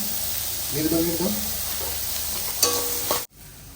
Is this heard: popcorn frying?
yes